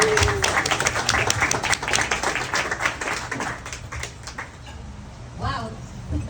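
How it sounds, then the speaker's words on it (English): Members of the Los Cerritos Democratic Club give a round of applause for Councilwoman Janet Keough Conklin, dense clapping that fades after about four seconds, followed by a voice speaking. "Let's give a big round of applause to Janet Keough"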